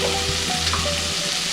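Sliced onions frying to golden brown in a pan for Kerala style beef roast, a steady close sizzle with a faint low hum underneath, no talking.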